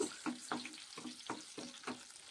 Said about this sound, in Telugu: పోపులన్నీ వేసేసుకుందాము శనగపప్పు వేసుకుందాము